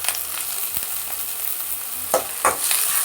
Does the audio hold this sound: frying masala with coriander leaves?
yes